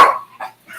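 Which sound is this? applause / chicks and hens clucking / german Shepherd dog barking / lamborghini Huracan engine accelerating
german Shepherd dog barking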